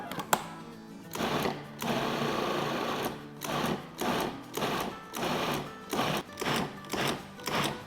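Electric food chopper run on pulse mode, chopping meat in short repeated bursts of motor whir separated by brief pauses, close and steady in rhythm, with no talk.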